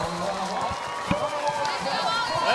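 Crowd cheering and noise fill the stands at a high school football all-star game in Michigan, a steady roar of voices with one short sharp shout rising briefly, carried along under a commentator's talk.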